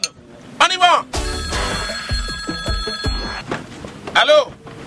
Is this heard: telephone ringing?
yes